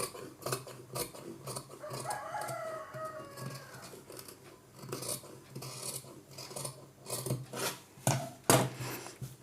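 Scissors cutting blouse fabric up close: quiet, irregular snips and rasping slides of the blades through cloth, with a few sharper clicks toward the end.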